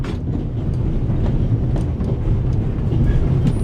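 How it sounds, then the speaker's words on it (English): A runaway train rolls through the Alps in The Raven video game, a loud, steady rumble of wheels and carriages with faint rhythmic clatter running continuously throughout. "And now you're here, on an out-of-control train in the Alps"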